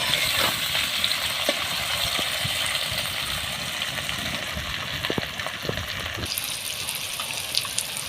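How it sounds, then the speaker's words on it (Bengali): Onion and tomato frying together in oil with a continuous broadband sizzle, a few faint clicks and scrapes scattered through, steady and fairly close with no talking. "টমেটোটা দিয়ে একসাথে ভেজে নেব"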